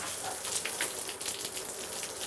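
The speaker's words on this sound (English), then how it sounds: "You can spray water all over it" A hose or sprayer showers water onto a Sylvox waterproof outdoor TV screen, producing a steady hissing patter like rain striking a hard surface, close and continuous throughout.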